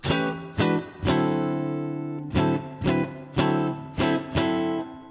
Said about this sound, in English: So let's see what some spring reverb sounds like on that.